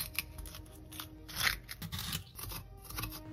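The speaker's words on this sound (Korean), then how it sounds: "칼보다 가위가 낫네요." Kitchen scissors snipping pitted jujubes (dried Korean dates) while preparing steamed pears, making quiet, close, crisp cutting clicks in a quick irregular series with light rustling.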